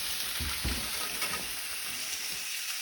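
Food sizzles steadily in a hot pan, with a couple of soft thumps and rustles as the pieces are tossed to cook evenly; a continuous, fairly loud frying hiss with no voices.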